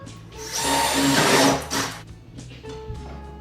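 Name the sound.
drill drilling holes in stairs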